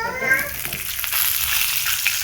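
Cauliflower florets sizzle as they fry in a pan, a steady broadband crackle that holds even and close throughout with no talk.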